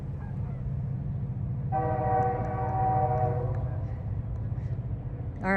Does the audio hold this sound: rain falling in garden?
no